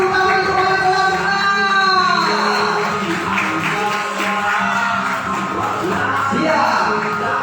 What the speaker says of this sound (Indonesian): Kita kasih tepuk tangan untuk wali kelasnya.